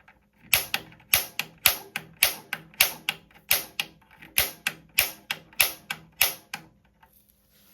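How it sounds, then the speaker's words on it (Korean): A water heater's ignition button pressed over and over, each press a sharp click, about a dozen in an even rhythm, close and alone with quiet gaps between them. "이 점화 버튼을 10번을 눌러야 된답니다"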